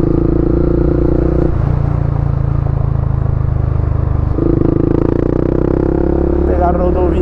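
Honda CB 300F Twister with a GRS exhaust and short gearing pulling hard, engine note stepping up through gears as it accelerates, loud and close with wind and clatter.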